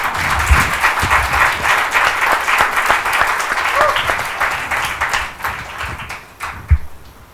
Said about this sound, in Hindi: कमान तालियां यीशु मसीह के लिए